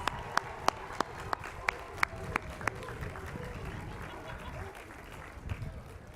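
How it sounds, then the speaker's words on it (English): Graduates applauding at a university commencement ceremony, a soft, distant spread of clapping under a few sharp, evenly spaced louder claps near the start, fading gradually. "give yourselves a big round of applause"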